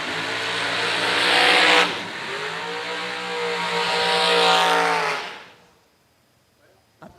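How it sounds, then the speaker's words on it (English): Drag racing hot rods, naturally aspirated single four-barrel 426 cars, roar loudly at the track, engines surging and revving through a couple of bursts before fading into quiet with a faint click at the end. "A pair of quick hot rods on the line now."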